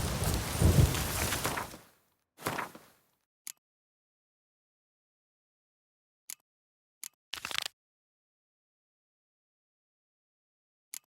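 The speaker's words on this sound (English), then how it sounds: "A storm, damn it." A thunderstorm in The Witcher 3 video game opens with about two seconds of rumbling thunder and hissing rain, then fades to near silence broken only by a few faint, sparse ticks.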